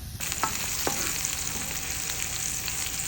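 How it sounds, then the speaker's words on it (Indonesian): Sliced shallots, garlic and chili sauté in hot oil in a wok, giving a loud, steady sizzle with a couple of quick scraping stir sounds near the start. "Setelah itu, bumbu ditumis hingga harum."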